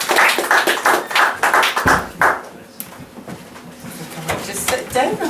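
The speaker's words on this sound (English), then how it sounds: "Give a big round of applause for Mrs. Dorothy Alexander." An audience at an anniversary celebration applauds a performer about to give monologues, heard as a burst of dense clapping that fades after about three seconds, followed by scattered claps, faint voices and room noise.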